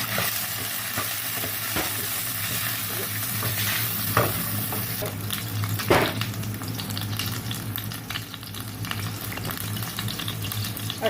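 Cardamom pods frying in ghee and butter, a steady close sizzle and crackle running throughout, with occasional sharper pops and scrapes of stirring against the pan, no voices.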